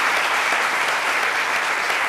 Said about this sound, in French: J'ai envie de vous applaudir.